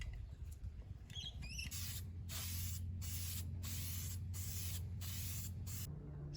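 Aerosol spray paint hisses on in repeated bursts of about half a second each, applying a second coat to a pink Rolls-Royce FAB 1 scale model car, with a steady low hum running beneath the close, even spraying.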